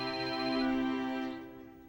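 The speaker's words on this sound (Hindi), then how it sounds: "पहले फोन तो उठाओ।" A phone ringtone in a Bhojpuri movie scene plays alone as a steady electronic tone, loud at first and then fading.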